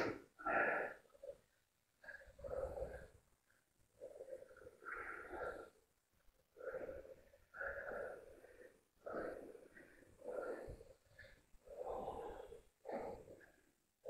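Heavy, rhythmic panting after intense krav maga cardio training, each loud inhale and exhale close and forceful, separated by brief pauses over roughly a dozen breaths.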